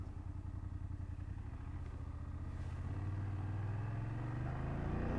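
A 2024 BMW F 800 GS motorcycle ridden in dynamic mode with a quick shifter gives a steady, close engine drone that climbs in pitch as it accelerates, with road and wind rumble beneath.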